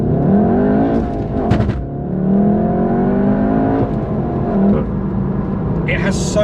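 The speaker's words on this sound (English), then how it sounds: "Those exhausts, those crackles out the back are brilliant." A Volkswagen Golf GTI Clubsport S engine revs up with rising pitch, broken by sharp crackling pops from the exhaust as it accelerates.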